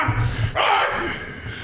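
A single short, gruff bark made by a human voice imitating a dog, close and abrupt, followed by a brief fading tail.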